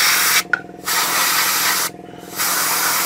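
Short bursts of aerosol spray paint hiss over a 1/35 scale Takom Chieftain Mk10 tank model, two light passes broken by brief pauses, close and steady with no speech.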